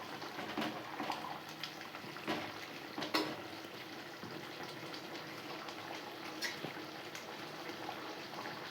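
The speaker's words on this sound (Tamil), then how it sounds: "அது வரைக்கும் கொதிக்கட்டும்" Dried fish and lima bean curry with coconut simmers in a pot, giving a steady bubbling, watery texture with small pops and splashes throughout, fairly quiet and close with no talking.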